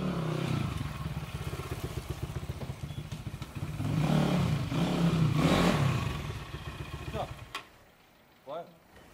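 A CX 250SE motorcycle, freshly repaired after a crash, rumbles and revs loudly with a rough clattering engine note that swells mid-clip, then cuts off abruptly; a voice speaks briefly afterward.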